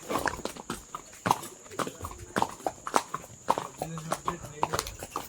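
Rhythmic horse hooves clip-clop at a walking pace close by in Matheran, with sharp regular strikes and faint background chatter.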